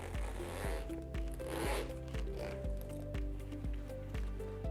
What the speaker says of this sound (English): If I open up the zip again